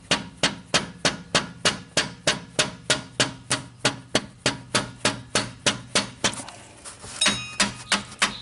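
Hammer tapping a part on a Dodge Nitro engine, around twenty steady, evenly spaced metallic knocks close by, then a brief pause and a few lighter taps.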